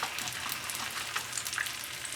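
Eggs sizzle and fry on a hot griddle, a steady close crackling hiss with no talk over it.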